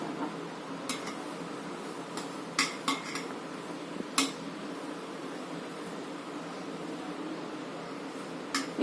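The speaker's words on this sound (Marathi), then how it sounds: "थोडी थोडी साफ करते ताटा ताटामध्ये टाकून" Mustard seeds are shaken on a plate to clean them, making a continuous gritty rattle and swish with occasional sharper metallic clinks against the plate.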